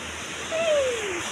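A stream flows close by, its steady broadband rush continuing throughout, with a brief whistling tone sliding downward partway through.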